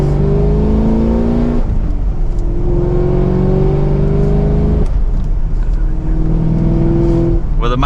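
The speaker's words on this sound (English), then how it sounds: "hopefully you could hear that exhaust" 2023 Chevrolet Camaro 2SS convertible exhaust pulling hard from second gear, a loud, close roar that climbs in pitch through three rising runs, each cut by a quick shift, with a faint voice beneath.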